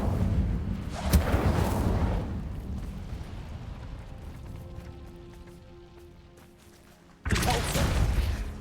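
Incendio fire spell cast in Hogwarts Legacy, a loud roaring burst with a crackling rumble that fades over several seconds, then a second sharp blast erupts near the end.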